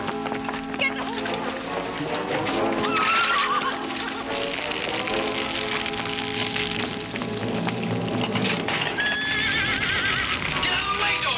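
Horses whinny and neigh repeatedly over clip-clopping hooves, with people talking and shouting throughout in a busy, lively scene.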